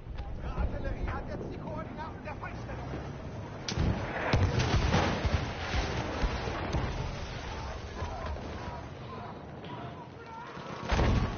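Artillery strike in the Frontlines video game, a series of heavy booming impacts rolling one after another, with louder blasts near the middle and end, under ongoing gameplay noise.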